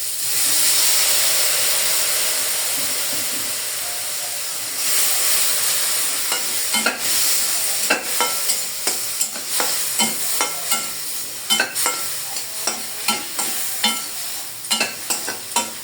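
Shrimp fry in a pan for a Thai soup as soy sauce goes in, with a loud steady hiss and sizzle followed by rapid, repeated stirring clatter in the second half.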